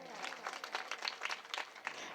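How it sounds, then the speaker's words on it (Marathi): Audience clapping at a Marathi kirtan devotional gathering, a fairly faint, uneven patter of individual claps from a modest crowd, with some voices mixed in. "एकदा जोरदार टाळ्या."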